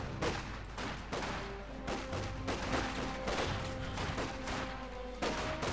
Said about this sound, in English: A good few shots there from the K98Ks.